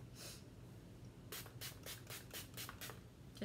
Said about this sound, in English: I'm going to go in with my e.l.f. Illuminating Mist Set Spray and spray my face.